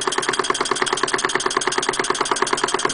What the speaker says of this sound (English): I declare that is chuffing.